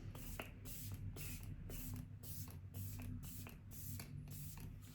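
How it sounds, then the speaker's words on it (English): Benefit Porefessional Super Setter setting spray misted from its pump bottle, a quick series of about ten soft, close hissing sprays in a steady rhythm. "I'm literally gonna set this now with the Benefit Porefessional Super Setter Strip Spray."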